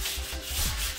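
A brief stretch of steady, breathy sanding, an abrasive rub against a wooden sofa repeating in close, even strokes.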